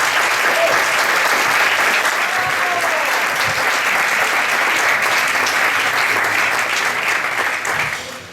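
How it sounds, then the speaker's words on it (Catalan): An award ceremony audience for dubbing and voice professionals applauds in a loud, continuous wash of clapping, with a brief murmur of voices beneath it, before the applause fades away at the end. "Un aplaudiment, sisplau."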